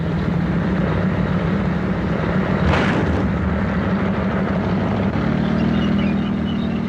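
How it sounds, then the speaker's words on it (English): A Hughes AH-64 Apache two-man attack helicopter drones steadily with a dense, continuous rotor and engine roar, loud and unbroken throughout, with a brief swell of noise partway and no talking. "One of the principal anti-tank weapons in the Gulf is the Hughes AH64 Apache attack helicopter."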